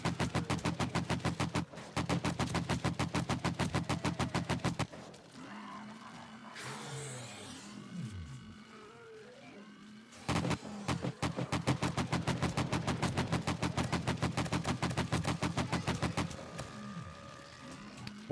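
AK rifle fired in the zombie survival game 7 Days to Die, rapid sustained automatic bursts with a brief pause in the middle, loud and close, interrupted by a few seconds of quieter ambient noise.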